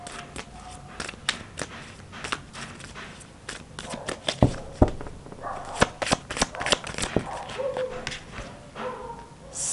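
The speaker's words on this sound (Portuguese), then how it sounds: "Vamos tentar tirar mais cartas aqui embaixo." Tarot cards being shuffled and drawn by hand, a run of quick riffling flutters and sharp slaps close by, irregular bursts with soft pauses between.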